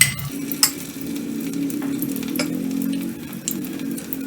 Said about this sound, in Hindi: स्लरी में अरबी डिप करेंगे, ऐसे चम्मच से इसके ऊपर ऐसे कोट करेंगे अच्छे से, और इसे फ्राई पैन में डालते जाएंगे